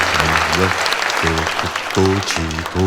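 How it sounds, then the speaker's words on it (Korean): Audience applause at the opening of the first Map Day commemoration ceremony plays as a steady wash of clapping throughout, with a voice speaking or calling out over it. "우리 모두 축하의 박수를 함께 치면서"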